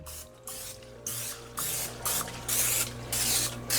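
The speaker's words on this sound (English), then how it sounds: "Spray it down with some canola oil." Canola oil cooking spray hisses into a pan in a quick run of about eight short bursts over a low background hum, close and clear, with no talking.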